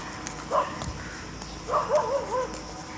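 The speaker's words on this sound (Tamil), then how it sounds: "இன்றைக்கி ரொம்ப நிறைய நாய்கள் இருக்குது குறைக்குது" Several dogs bark at a distance in a quiet rural setting, a single bark followed after a pause by a short cluster of three or four barks, faint against steady background noise.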